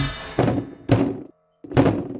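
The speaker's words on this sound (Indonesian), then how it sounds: "lalu refleks menggebrak langit-langit angkot dengan keras" A hand slams hard against the ceiling of an angkot minibus, three loud heavy thumps close by in quick succession, with a short silent gap before the last blow.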